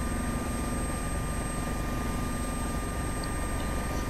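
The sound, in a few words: AS365 Dauphin helicopter in Prepar3D flight simulator video game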